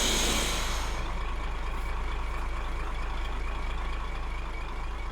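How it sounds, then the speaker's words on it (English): A hissing release opens as a Roblox storm-chasing vehicle, the Pathfinder TIV 1 "The Talon", lowers on its hydraulic system, followed by a steady low mechanical hum. "A key component to this vehicle I have is a hydraulic system, which lowers the vehicle to the ground."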